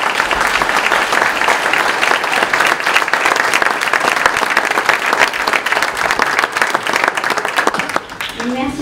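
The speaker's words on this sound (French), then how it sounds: "je vous propose de les applaudir" Sustained applause from a large crowd at a mayor's New Year greetings ceremony in Saint-Guyomard, steady dense clapping that carries on for several seconds.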